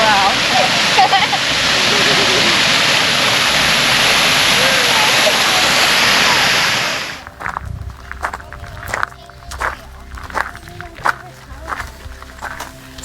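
The waterfall at DeSoto Falls, Alabama roars loudly and steadily up close for about seven seconds, then cuts off, followed by quieter footsteps and faint sounds.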